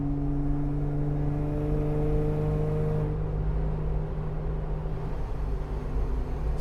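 A supercharged Jeep Wrangler JK Rubicon Hard Rock runs in fifth gear with a steady engine drone and whine from inside the cabin, the pitch shifting about halfway as the load changes.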